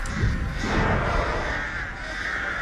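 A cluster of crows caws repeatedly in Dead by Daylight, close and fairly loud against a steady game ambience, with no talk.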